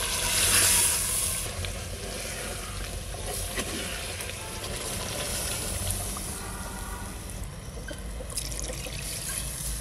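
Spiced water poured into a handi of red country chicken sizzling over the fire, giving a close, steady frying hiss with a trickling splash that swells at the start and then settles into continuous sizzle.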